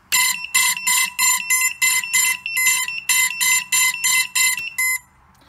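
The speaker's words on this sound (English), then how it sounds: "I'm going to turn on the beeper and you're going to hear it come through the motors." Quadcopter drone on Betaflight 3.2 sounds its lost-model beeper through the motors: a loud, shrill electronic tone in a dozen or so rapid, evenly spaced bursts, then stops.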